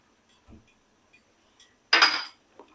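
Spoon scraping and clinking in a pan while sugar is stirred into tamarind pulp for mint tamarind chutney, with a faint tap early on and a brief louder burst of stirring near the end.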